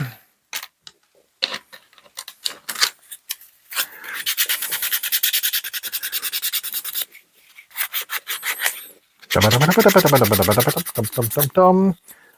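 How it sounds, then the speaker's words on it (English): MDF terrain building being sanded by hand with sandpaper, giving repeated raspy rubbing strokes in bursts, close and fairly loud, with brief pauses between passes and no talk over it. "And again, sandpaper."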